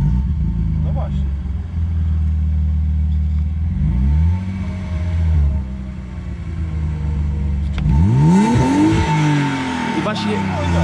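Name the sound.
BMW M52B25 engine revving on LPG gas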